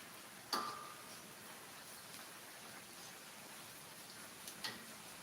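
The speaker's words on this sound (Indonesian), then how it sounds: "Hujan guys, Makassar hujan terus." Rain falls steadily in Makassar, a soft even hiss of drops with a couple of faint sharper taps, fairly quiet and without voices.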